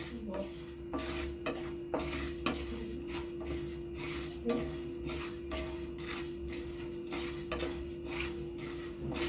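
Masala being dry-roasted in a pan for fresh pea rolls, stirred briskly: a rapid run of spatula scrapes and taps against metal over a faint sizzle and a steady low hum, close and unbroken by speech.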